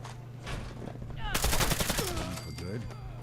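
Rapid gunfire in Fallout 4, with a quick burst of shots packed close together over game sounds. It is loud and near, and a voice speaks around it.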